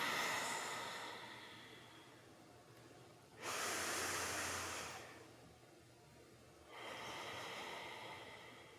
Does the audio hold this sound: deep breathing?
yes